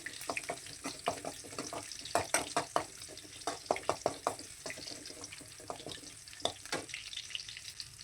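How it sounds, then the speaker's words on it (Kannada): Garlic frying in a pan of hot oil while mutton sukka is being cooked, with quiet, irregular crackles and spits popping over a soft steady sizzle. "ಎಣ್ಣೆ ಒಂದು ಸ್ವಲ್ಪ ಬಿಸಿ ಆದಮೇಲೆ ಅದಕ್ಕೆ ಬೆಳ್ಳುಳ್ಳಿನ ಹಾಕ್ಬಿಟ್ಟು ಒಂದು ಸ್ವಲ್ಪ ಹೊತ್ತು ನಾನು ಫ್ರೈ ಮಾಡ್ಕೊತಾ ಇದ್ದೀನಿ"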